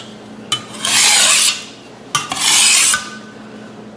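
A Chinese vegetable cleaver (cai dao) drawn across a 220-grit whetstone in two even, close rasping strokes, each lasting about a second, with quiet pauses between and no talking.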